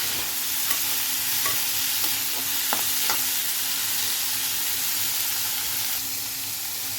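Vegetables fry in a pan for spicy semolina with a steady, close sizzle and hiss, while a spoon stirs and scrapes now and then. No one speaks.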